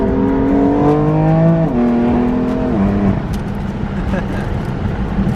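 A Nissan R35 GT-R engine revs while driving, its pitch climbing and stepping through shifts before settling into a steady drone, close and loud, with a voice briefly heard over it.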